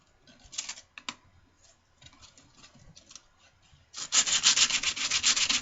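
Knife handle scales being sanded by hand with 60 grit sandpaper: short scratchy rubbing strokes come in bursts, then a loud, continuous run of rapid back-and-forth sanding close up, with no voices.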